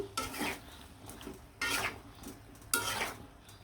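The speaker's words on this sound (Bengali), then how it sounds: "আলু আর বেগুন গুলা দিয়ে ভালো করে সুন্দরভাবে আমি লাড়াচাড়া দিয়ে দিলাম মশলার সাথে একদম মিশিয়ে নিলাম" Potatoes and eggplant are stirred into a fish-head curry masala in a pan, giving three distinct bursts of scraping and clattering against a faint sizzle.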